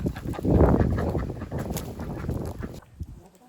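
Ducks honking and quacking as they crowd around food scattered at a summer homestead, loud and close for about three seconds before fading to near quiet.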